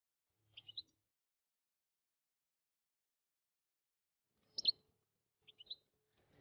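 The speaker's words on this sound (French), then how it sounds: "Et ça reste le chardonneret, l'oiseau le plus beau, le plus doux, le plus chanteur" A European goldfinch gives short bright chirping phrases in three brief bursts separated by long quiet gaps, faint and somewhat distant, with no voices.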